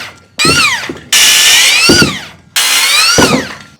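A power saw cuts wooden wall studs in three loud bursts, each spinning up, biting through the wood and winding down, close by, during an 1857 rowhome renovation.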